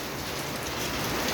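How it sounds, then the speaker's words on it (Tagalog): Rain pouring outdoors in Bay, Laguna, a dense, steady hiss of drops hitting surfaces, close and fairly loud, with no voices over it. "Umuulan na."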